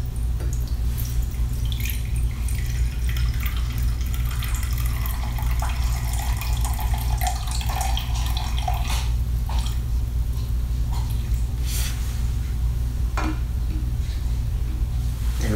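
Acetic acid being poured into a laboratory beaker, a steady liquid trickle with drips over a constant low hum, no talking during the pour.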